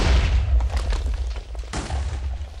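TNT cannon explosions in Minecraft, deep booming blasts with a rumbling low end, one heavy detonation followed by another loud burst about halfway through, heard alone and close.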